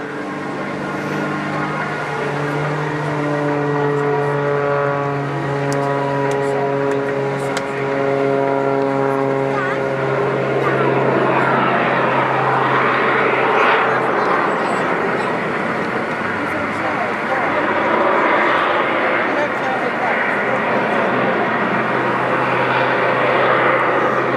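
Propeller aircraft at the English Riviera Airshow 2024, fitted with a carbon cowling, droning steadily with a strong engine tone that shifts in pitch as it passes, loud and continuous under someone speaking.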